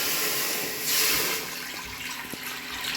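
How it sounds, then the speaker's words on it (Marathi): Water splashes and pours into dough for dal batti, a brief gushing stream that tapers into a quieter trickle. "पाणी घालूया"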